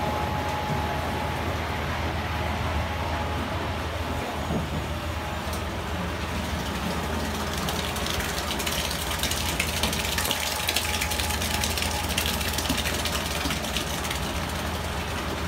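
A winery press and pump push crushed rosé grapes through a hose, giving a continuous mechanical drone with a constant low hum and rising hiss, steady and close throughout with no talking.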